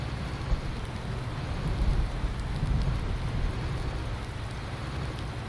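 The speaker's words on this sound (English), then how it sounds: "definitely love the sound of the thunder in this" Steady rain falling during a thunderstorm, with low rumbling thunder swelling midway through beneath the continuous hiss of the downpour.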